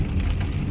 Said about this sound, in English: I have my umbrella because it's raining out